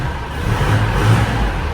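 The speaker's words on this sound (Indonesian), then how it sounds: "Kita hidupkan mesinnya." A 2002 Isuzu Panther LS diesel with a manual gearbox, started cold: a loud, steady low engine rumble close by, holding a constant idle throughout with no talk.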